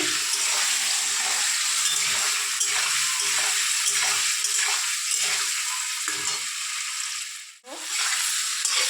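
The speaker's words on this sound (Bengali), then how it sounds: "পনিরটা লাল লাল করে ভাজছি" Paneer frying in a pan sizzles loudly and continuously, with faint stirring scrapes under the hiss and a brief sharp dip near the end.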